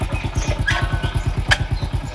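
A motorcycle engine idles close by with a fast, even throbbing putter throughout.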